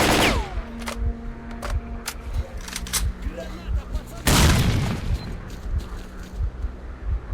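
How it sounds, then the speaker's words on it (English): Combat in S.T.A.L.K.E.R. Clear Sky: rapid gunfire bursts crackle throughout, then a loud grenade blast erupts about four seconds in and rumbles on under further shots, with voices shouting. "You're gonna get my special grenade treatment!"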